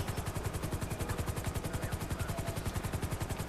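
A patrol helicopter flying at night in the video game GTA 5, its rotor beating in a fast, even chop that stays loud and close throughout with no voices.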